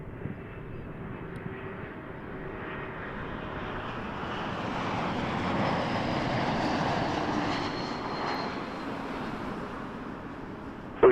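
A PIA airliner on the far side of Toronto Pearson airport gives off a distant jet roar that slowly swells, holds and then eases off over several seconds, with no voices.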